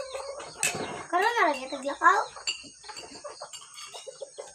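A brooding hen clucks nearby in a series of wavering, drawn-out calls and shorter clucks, while a person talks over the sounds.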